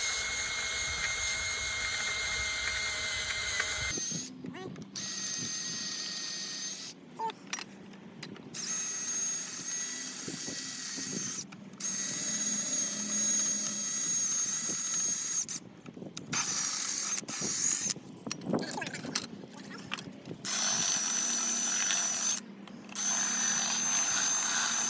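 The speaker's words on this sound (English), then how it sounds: "I just use a 1/4 inch drill on it, and then you really just need to drill the heads off." A 1/4 inch drill bores the heads off rivets during a Treasure Garden AKZ umbrella tilt lever repair, sounding as close, loud whining bursts separated by short pauses, with faint clicks between runs.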